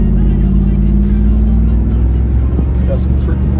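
Engine and aftermarket Trick Flow exhaust of a 1996 Pontiac Trans Am WS6 with a 4L60E four-speed automatic while driving, a steady loud low drone throughout with faint talk over it.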